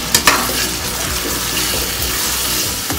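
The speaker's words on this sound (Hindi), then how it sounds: "अब हम इसमें हमारे टमाटर ऐड करेंगे और इसको अच्छे से मिक्स कर लें" Tomatoes frying and being stirred in a pan of pav bhaji give a continuous close sizzle, with scraping stirring strokes and a few knocks over the top.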